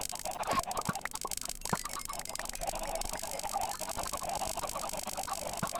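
Chickens clucking on a farm in the video game Spellbound Caves II, a busy layer of bird calls and clucks running steadily over low game background noise, with no talking.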